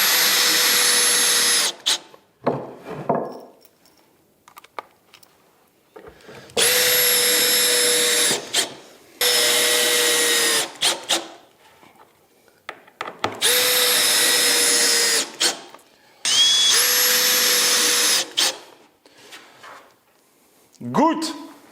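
Power drill driving 5x50 screws into wood while a miter saw is fixed onto a workbench: several loud, close bursts of high motor whine, each a few seconds long, separated by pauses with brief talk and knocks.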